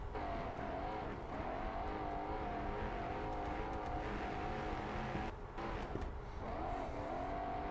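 Racing trucks at a competition final launch off the line together, their engines roaring loud and steady with rising revs throughout, no talk over them.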